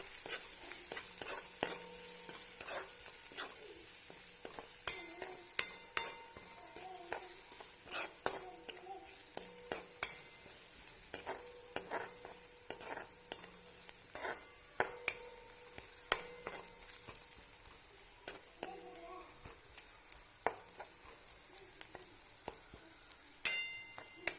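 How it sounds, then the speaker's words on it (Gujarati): Spoon stirring desi masala, chili powder and salt in a pan, repeated sharp scraping clicks over a soft sizzle, close and steady throughout. "હવે આપણે એને હલાવી લઈશું।"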